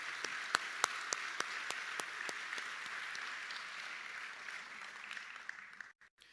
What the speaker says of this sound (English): Please help me in giving them one more round of applause.